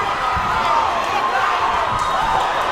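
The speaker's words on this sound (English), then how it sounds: "LaGuardia crowd going crazy." Basketball crowd at a LaGuardia community college game roaring wildly after a big dunk, a loud, dense, continuous wall of cheering and shouting in the bleachers.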